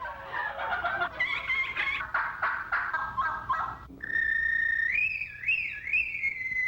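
Turkey calling contest contestants imitate turkey gobbles, first with a run of rapid, rattling gobbles, then a sustained, warbling high call; loud and close with no other talk, voices mimicking the bird.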